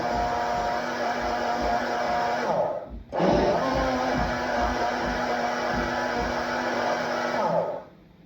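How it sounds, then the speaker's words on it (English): An electric blender whirs loudly and steadily as it blends an avocado and soursop smoothie for a Jamaican punch. The motor cuts out briefly near the three-second mark, then roars back on at full strength until the end. "Go lock it back and blend it."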